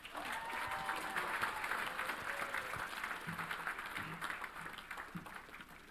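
An audience at a graduation ceremony claps steadily as a speaker is welcomed to the podium, a sustained wash of applause that fades slightly toward the end, with faint voices underneath.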